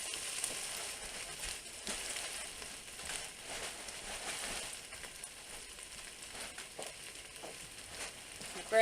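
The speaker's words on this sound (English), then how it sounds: "just let that saute up for a minute." Garlic and other ingredients sauteing in a pan for soup, giving a steady, soft sizzle and crackle that runs continuously at close range with no talk over it.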